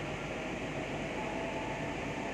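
A Kochi Metro train runs between Vyttila and Aluva, a steady low rumble and hum from inside the carriage, constant and fairly quiet with no voices.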